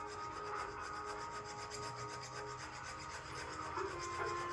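Filing excess solder from a 9ct yellow gold 2mm D-shape wedding band, a steady close rasping rub that continues without a break throughout.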